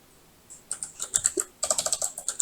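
Fingers type on a computer keyboard while entering a code-generation prompt, in quick irregular bursts of sharp clicks and key taps that become a faster, steady run toward the end.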